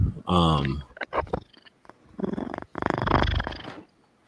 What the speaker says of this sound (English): Sounds like cat.